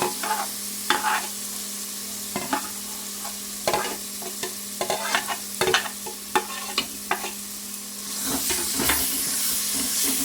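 Tomatoes with ginger garlic paste and salt are stirred in a hot pan, with scraping strokes in irregular bursts over a soft sizzle that swells louder near the end.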